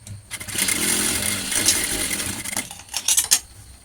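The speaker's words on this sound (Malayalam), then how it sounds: "ഇതിൻ്റെ അരികിലൂടെ സ്റ്റിച്ച് ചെയ്തെടുക്കുകയാണ് ചെയ്യുന്നത്" A sewing machine stitches along the edge of fabric, a close rapid mechanical whir in one continuous run followed by a few short bursts of stitching.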